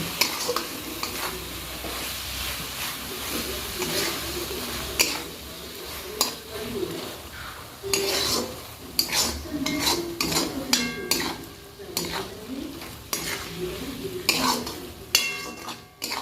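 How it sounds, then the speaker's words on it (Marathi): Spring onion greens and peanuts are stir-fried in a pan for a dry, spicy Maharashtrian sabzi: a steady oil sizzle runs beneath repeated scraping and clinking of a spatula against the metal pan, with loud irregular stirring strokes throughout. "व्यवस्थित असं परतून घ्यायचं आहे आपल्याला शेंगदाणा खूप टाकल्यावर"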